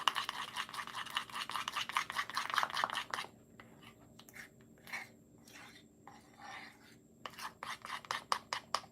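Birthday cookie bark mixture being stirred in a bowl, a brisk, rhythmic scraping and rubbing close by, pausing briefly midway before resuming.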